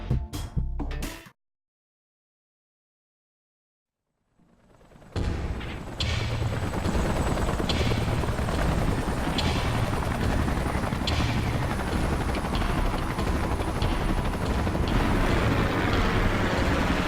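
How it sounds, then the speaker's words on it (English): Salvage helicopters in the video game Xenoblade Chronicles X arrive as a loud, continuous rotor roar with rapid chopping thumps, beginning after a short silence and holding steady to the end. "Let's call in the salvage choppers and get it out of here."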